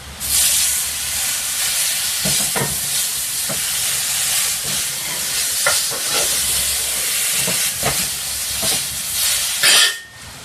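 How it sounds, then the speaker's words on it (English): Steam hisses loudly and steadily off a still-hot grill being steam-cleaned, with short scraping bursts and crackles breaking through the continuous rush. "So it kind of steam cleans the grill and dries it all up at the same time because it's still hot."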